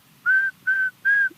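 A ring ouzel calls from hill country with three clear, level whistled notes, each about a quarter-second long and evenly spaced, sounding close and alone against a quiet background.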